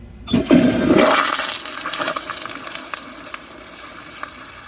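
An American Standard Cadet pressure-assist toilet flushes with a loud, sudden whoosh of water that quickly peaks, then drains and gurgles away to a fainter trickle over a few seconds, heard up close with no speech.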